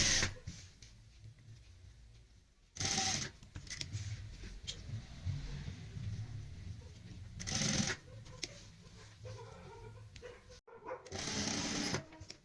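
A sewing machine stitches a round collar onto a garment neckline, with several short bursts of rapid mechanical whirring between pauses and quiet handling noises of fabric being repositioned.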